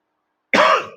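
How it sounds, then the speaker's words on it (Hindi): A single sharp cough from a person, close and loud, bursting out after a silence and trailing off within half a second. "माफ करना थोड़ा खांसी ज्यादा आ रही है आज।"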